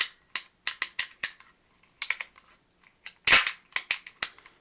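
Sharp mechanical clicks and snaps from an HK USP pistol being decocked, having its safety lever worked and dry fired, about a dozen crisp close-up clicks in uneven bursts with one louder clack near the end, no talking.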